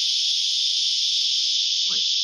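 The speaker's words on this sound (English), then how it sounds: "Is it actually cicada" A cicada's loud, steady buzzing drone runs continuously beside a creek where bass fishing is underway, with a brief low splash or thump near the end.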